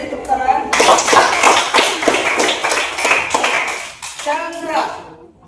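A class of schoolchildren claps for a classmate during a physical education lesson on forward rolls, a dense burst of many small hands lasting several seconds, with children's voices mixed in before and after.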